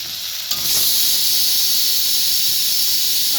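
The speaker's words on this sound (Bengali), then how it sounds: "এখন এখানে দিব পেঁয়াজ কুচি, নাড়াচাড়া করে নেব ভালো করে।" Chopped onions hit a hot pan with a sudden loud sizzle just after the start, then fry steadily with a broad hissing crackle while being stirred.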